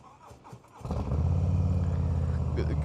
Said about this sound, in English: A good cold start on this colder December day.